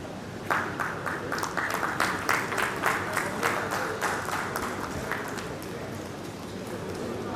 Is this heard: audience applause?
yes